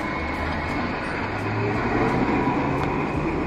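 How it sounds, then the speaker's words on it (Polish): A train riding along, heard from inside: a steady, loud rumble with even wheel and track noise and no pauses. "Pociąg sobie jedzie."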